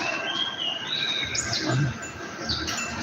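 Small birds chirp and tweet in short, high calls over a steady background hiss, with a couple of brighter chirps standing out.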